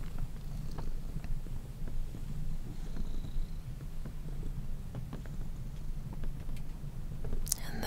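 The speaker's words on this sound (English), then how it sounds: "You can see that her purring is slowing down too." A cat's soft, rhythmic purr rumbles close up during a gentle massage, low and steady under faint rustling and occasional small taps, with quiet soft-spoken talk.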